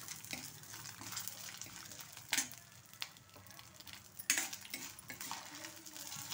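Peanuts and lentils fry in oil in a pan for pulihora, a soft steady hiss under scattered metallic clinks and scrapes from stirring, fairly quiet with a few sharper knocks.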